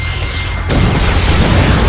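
An explosion in the Chainsaw Man Reze Arc movie hits suddenly as a loud, broad roaring blast after a steady background hum, then sustains as a dense, rumbling wash without fading.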